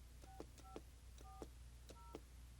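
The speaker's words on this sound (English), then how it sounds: "you simply dial in your calling card number" Telephone keypad tones dialing a calling card number, a handful of short paired beeps at an uneven pace over a low steady hum, faint and with no talk.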